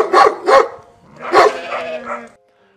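A voice imitates a dog barking, a few short gruff "woof" sounds in quick succession, close and loud.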